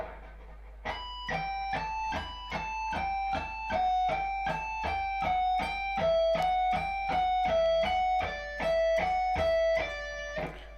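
Guitar playing a fast picked lick in B Aeolian, built on a repeating six-note sequence: a steady stream of crisp, evenly spaced notes stepping through the scale, fairly quiet and clean, alone without talk.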